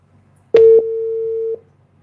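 Telephone tone on an unanswered call, with a click followed by a single loud steady beep that lasts about a second, heard alone and close.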